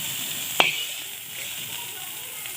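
Food fries in a pan on a home stove after salt is added, giving a steady close sizzling hiss with a couple of sharp clicks and no speech.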